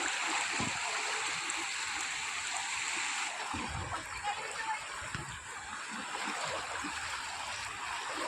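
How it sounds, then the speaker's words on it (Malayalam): Strong flood water current running through a flooded house and kitchen, a continuous close rushing and splashing of water with a voice talking over it. "ഭയങ്കര ഒഴുക്ക ഇതിനകത്തിപ്പം നമ്മളൊന്ന് ഇറങ്ങിയാൽ ഒഴുകിപ്പോവും"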